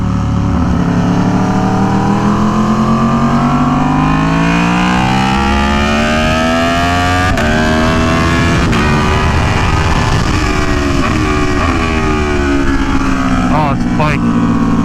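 An Aprilia Tuono V4 1100 Factory motorcycle on a track at Buttonwillow Raceway Park, its V4 engine loud and close as it revs and climbs through gears, pitch rising, dipping at shifts and rising again.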